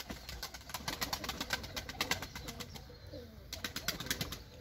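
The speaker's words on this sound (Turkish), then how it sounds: "Nasıl kanat vuruyorlar görüyor musunuz?" Pigeons fight, beating their wings in quick rhythmic flurries of soft flapping, with cooing and other bird sounds in the background.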